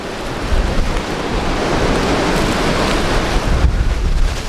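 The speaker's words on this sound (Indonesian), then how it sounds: "Anginnya kencang sekali." Strong wind on a mountain roars continuously across the microphone, a loud, steady broadband rush with gusty swells and no voices.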